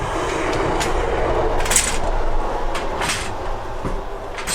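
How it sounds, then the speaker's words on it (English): A train rumbles past close by, a steady broadband roar broken by periodic clacks and bursts of wheel noise, with no voices. "Here comes the train."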